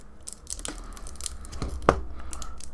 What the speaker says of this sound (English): let's just cut the bag open